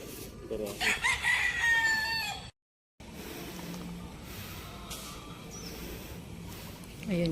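Live chickens and roosters at a Filipino roadside barbecue restaurant in Pulilan crow close by, with clucking and farmyard noise. A short silent gap breaks it, then fainter crowing returns over a quiet background.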